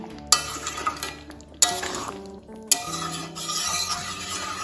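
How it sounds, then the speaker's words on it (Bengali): A spoon stirs meat masala into a finished cooked dish in a pan, with three sharp clinks against the pan's metal and scraping, sizzling stirring noises between them, close and fairly loud with no talk. "মিট মশলাটা ভালোভাবে মিশিয়ে নেব"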